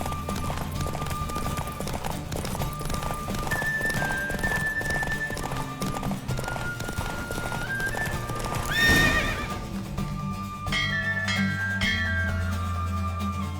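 A horse galloping hard in a race in The Witcher 3, with rapid rhythmic hoofbeats, snorting and a loud whinny midway, set against game music.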